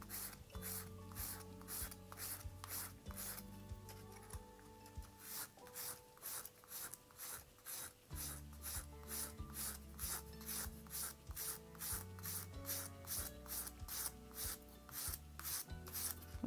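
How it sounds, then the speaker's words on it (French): A nail file rasps flat along the edge of a brass earring in quick, rhythmic back-and-forth strokes, close and steady, with music playing underneath. "on y va à plat avec la lime à ongles. On lime ici pour enlever les traces"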